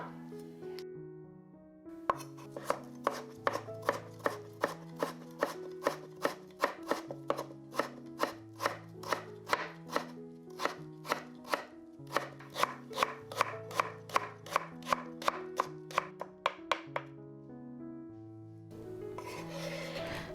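Knife chopping white-skinned potato into fine shreds on a board, a fast, even run of crisp taps, close and clear, over quiet background music.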